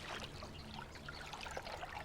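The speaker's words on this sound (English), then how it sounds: "The snake's sinuous contractions propel her through the water." Quiet rippling and soft trickling of swamp water stirred by a swimming snake, faint and continuous with no voices.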